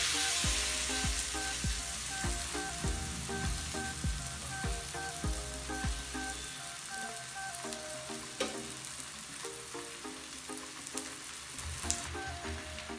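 Akki roti, a rice flatbread, laid on a hot griddle gives a steady, close sizzle and crackle with fine popping throughout, with no voices.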